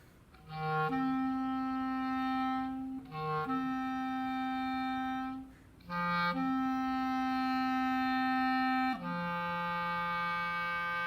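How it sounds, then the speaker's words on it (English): Tenor saxophone playing the melody part of a band piece, a few long sustained notes with brief gaps between them, full and close, heard alone. "Now the tenor sax and the other melody part right there, it's going to sound like this."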